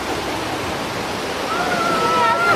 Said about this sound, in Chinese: 大量雨水像瀑布一样灌进宜兰大学停车场